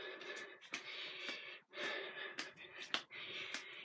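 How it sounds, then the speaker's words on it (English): Heavy, rhythmic gasping breaths during a high-intensity interval workout in a small home space, close and fairly quiet, with repeated harsh inhale-exhale cycles and no talk. "If you're breathing heavy, that means you worked hard during our warm-up."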